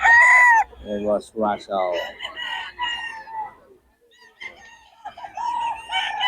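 A sweater gamecock stag crows among roosters, with loud crowing at the start and clucking fowl in between, while someone talks over the birds at close range.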